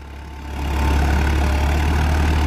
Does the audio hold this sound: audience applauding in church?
no